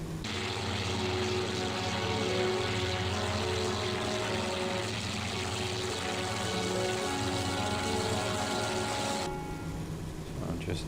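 Ki-84 Frank fighter engine in IL-2 1946 drones loudly and steadily, a constant propeller roar that holds at one level before the sound cuts away near the end; a voice talks over it.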